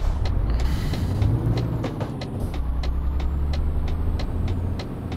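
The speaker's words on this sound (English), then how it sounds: "we're gonna make it before this truck" A truck drives in Euro Truck Simulator 2, a steady low engine drone with rumbling road noise, a passing vehicle sweep and regular clicking ticks, fairly loud and without talk.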